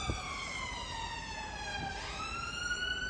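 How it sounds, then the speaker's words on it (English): Ambulance siren wailing in Tenerife, rising and falling tones heard at moderate distance over faint street background, steady for the full few seconds. "Okay, let the ambulance do its thing because it's important."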